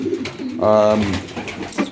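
Pigeons in a breeding loft give a clear, close cooing call lasting about half a second, with softer bird sounds and faint shuffling around it.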